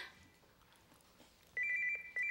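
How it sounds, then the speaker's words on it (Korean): A telephone rings in a Korean sitcom home scene, starting partway through with two steady electronic ring bursts, clear and moderately close after a quiet stretch of faint room noise. "얼른 저리 가서 전화 받아봐."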